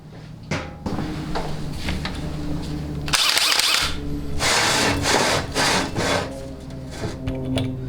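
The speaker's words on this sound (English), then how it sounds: "we're going to also drill that to 125 thousandths" A power drill whirs in bursts, grinding with a harsh high rasp as it drills a hole in metal on a 4L80E transmission part, with brief pauses and clanks between passes; close and fairly loud.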